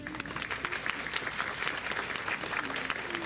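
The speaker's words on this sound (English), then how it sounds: "So just a special round of applause for Marie" An audience at a thank-you luncheon for memory research partners claps steadily, a dense, even patter of hands filling the room at moderate volume.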